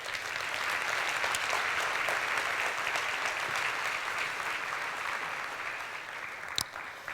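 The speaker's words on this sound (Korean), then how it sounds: "다시 한번 박수 부탁드리겠습니다" An audience at an insurance industry seminar gives a steady round of applause, a dense even patter of many hands, moderately loud and sustained, with a single sharper knock near the end.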